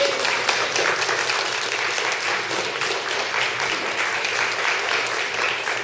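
Applause from attendees at a town public hearing, a dense, even patter of clapping that holds steady throughout without a clear break.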